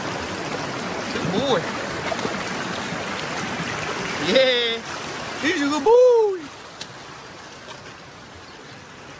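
Small backyard river near Perth, Western Australia, flowing as a steady broadband wash throughout, with someone talking over it to his dog and brief whistles or calls rising above the water.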